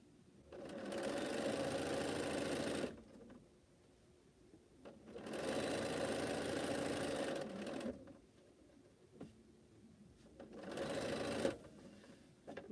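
Sewing machine stitching quilted fan blocks in three sustained whirring runs separated by short pauses, close and steady.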